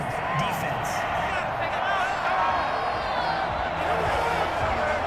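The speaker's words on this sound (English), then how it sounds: "Well, this crowd does not like that call." A stadium crowd in the Madden NFL 21 video game booing and roaring after a roughing penalty call, a sustained loud crowd swell under a commentator's voice.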